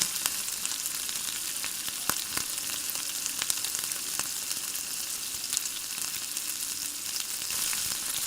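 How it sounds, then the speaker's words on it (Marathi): Chopped tomatoes and soya chunks sautéing in a hot pan, a steady close sizzle and crackle with scattered louder pops throughout and no talk. "ॲड करायचे आणि परत चांगलं परतून घ्यायचे"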